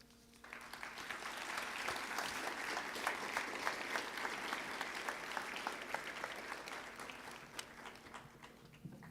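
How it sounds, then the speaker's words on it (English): An audience at an anti-corruption summit applauds after the President's speech, clapping swelling in from a quiet start into a sustained, moderately distant roar that holds steady and begins to taper near the end. "one more round of applause for the President"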